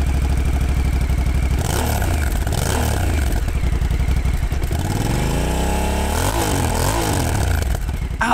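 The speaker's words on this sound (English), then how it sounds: "pulsing exhaust note" A Honda Africa Twin motorcycle engine thrums close and loud with a punchy, pulsing exhaust note, revving up and down through several rising and falling sweeps.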